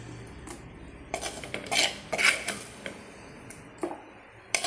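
Food is moved into a dish beside a pan while a curry is made: a scatter of close, light clinks and scrapes of utensils against cookware, irregular and fairly quiet, with no talking.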